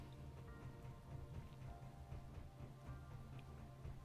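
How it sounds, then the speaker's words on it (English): Steady rain falls in the video game Space Engineers, patters continuously, a dense even hiss with faint droplet taps and a low rumbling hum underneath, no voices. "when it's raining outside like it is right now"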